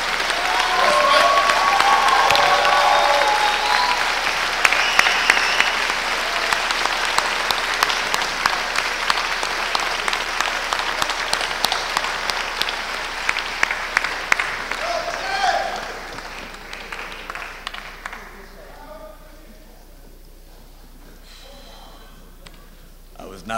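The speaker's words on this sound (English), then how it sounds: "So let's give him a round of applause." A rally audience bursts into loud, dense applause for a supporter, which gradually thins into scattered claps and fades, with voices talking over it.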